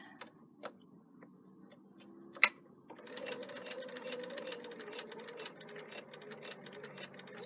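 A sewing machine stitches fabric along a stitching line, starting with a sharp click and then running in a quiet, steady, rapid ticking hum close by.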